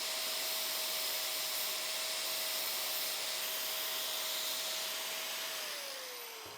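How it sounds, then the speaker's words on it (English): An angle grinder with a grinding disc shapes a metal part for a custom minibike shock mount on a Honda Shadow chopper, a steady, loud high whine running continuously and dropping in pitch as it winds down at the end. "Now I'll just get a grinding disc out so that I can perfect the shape."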